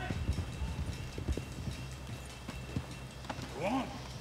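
Horses' hooves clopping in the Red Dead Redemption video game, a run of irregular low thuds fading over a few seconds, quiet, with a short neigh-like whinny rising near the end.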